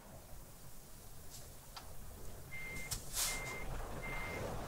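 Reversing beeps from a truck in the Euro Truck Simulator 2 game: a steady series of high electronic beeps, fairly clear over a low engine rumble, repeating at an even pace.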